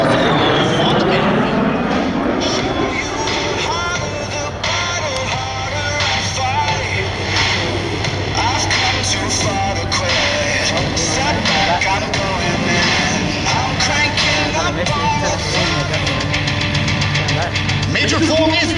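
An A-10 Warthog jet performing at an air show roars loudly and steadily throughout, a broad continuous engine rush with shifting tones as it flies, with speech-like sound mixed into the din.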